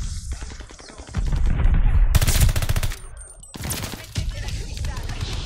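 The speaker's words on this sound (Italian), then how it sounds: "Arriva un bombardamento." Rapid machine-gun bursts and bombardment blasts from Call of Duty: Vanguard, loud and close, with dense rattling volleys broken by short gaps and a voice talking between the bursts.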